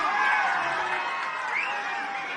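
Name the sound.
crowd applauding and cheering at a protest rally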